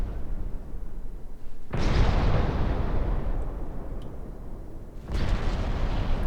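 Secondary naval guns firing at transport ships in Ultimate Admiral Dreadnoughts, heard as a steady rumbling barrage of distant booms that swells suddenly into a louder, denser roar, then surges again near the end.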